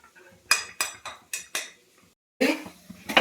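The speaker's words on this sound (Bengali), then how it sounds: "আমি এখন পরোটা ভাজছি," A spatula knocks and scrapes against a pan while thin parathas fry. About five sharp clanks come in quick succession, then a pause and a denser burst of metallic clatter, all close and without talk.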